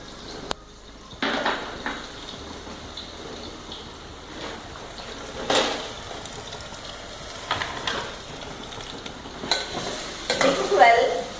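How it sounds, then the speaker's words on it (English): Onion, ginger and garlic with salt frying in a pan for beef biriyani, with a low sizzle and scattered stirring scrapes and clinks of a spoon against the pan, fairly quiet and close, no talk. "Now I am adding this salt, onion, and then ginger and garlic."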